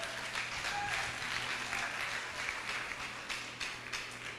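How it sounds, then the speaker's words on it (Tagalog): A church congregation claps together at an anniversary service, a steady wash of applause lasting the whole stretch at moderate level. "lakasan nyo yung palakpak ko,"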